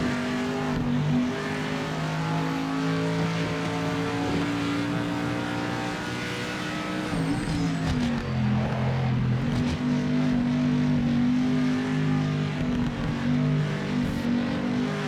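A race car engine in a driving video game drones steadily at partial throttle, then its pitch dips and climbs again as more throttle is fed in, loud and continuous with no talking.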